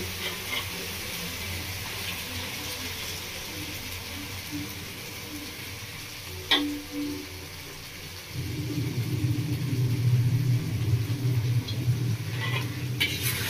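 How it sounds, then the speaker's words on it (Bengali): Ground paste of rice, melon seeds, cashews, poppy seeds, yogurt and fried spices sizzles in a pan on a low flame for a village-style doi katla, with a steady frying hiss that grows louder and fuller as stirring picks up midway. "লো ফ্লেমে এগুলো নাড়িয়ে নেবো, মশলার সাথে মিশিয়ে নেবো ভালো করে"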